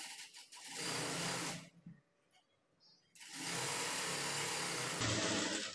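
A sewing machine runs in two steady, close bursts, stitching a half-inch seam in a garment, with a short quiet pause between the runs.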